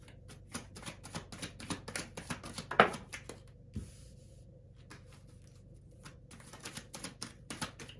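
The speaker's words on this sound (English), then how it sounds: "I like to just shuffle and let them fall out" Tarot cards shuffled by hand in a quiet room, a quick run of soft riffling and tapping clicks, then a pause and a few more light card sounds, close and fairly faint.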